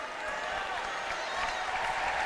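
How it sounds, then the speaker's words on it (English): A basketball arena crowd applauds a floor mopper at a women's college game, steady sustained clapping mixed with a broad crowd murmur, moderately loud and continuous throughout. "the young lady on mop patrol gets a round of applause"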